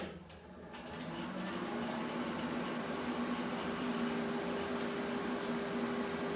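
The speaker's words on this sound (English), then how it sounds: "Fire up my welder." A welder hums steadily at close range, a continuous tonal drone with a faint hiss that holds level for several seconds after a short start-up swell, with no talking.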